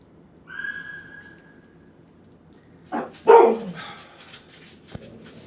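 Pet dogs, including a small Shih Tzu, bark and yelp nearby: a brief whine early on, then a cluster of sharp, loud barks followed by softer yips, in an indoor kitchen setting.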